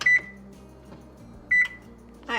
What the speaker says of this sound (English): I've got a button on my microwave where it will soften the cream cheese for me